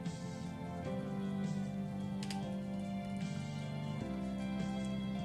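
Steady, quiet rain falls on a surface as an even, continuous patter with no voices.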